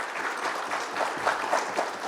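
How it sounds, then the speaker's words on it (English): Brief burst of audience applause closing a panel session at a cybersecurity conference, dense clapping with a few sharper individual claps near the end, no speech over it. "please give a big round of applause for..."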